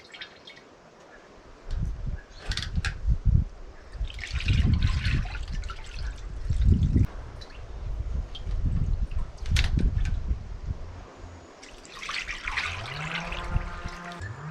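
Liquid strained through four layers of cheesecloth, a flour sieve and a fine-mesh strainer, trickling and dripping steadily in an uneven flow close by, with a brief pouring surge near the end.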